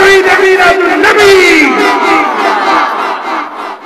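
A crowd at a Bengali Eid-e-Miladunnabi religious gathering roars a loud, sustained chant of Naraye Takbir and Naraye Risalat, many voices shouting in unison close by, the call swelling and then slowly tapering off.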